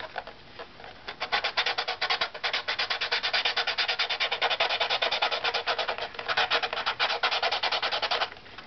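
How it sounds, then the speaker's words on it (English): Sandpaper edge rubbed across a wooden top plate, producing close, steady back-and-forth scratchy strokes in a quick, even rhythm for several seconds, with no voices. "I'm basically going to be sanding with the edge of the sandpaper here."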